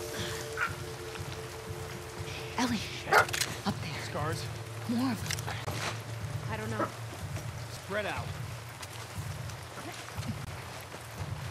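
A dog barks and yips several times in The Last of Us Part II, heard amid game ambience with rain and a voice talking throughout.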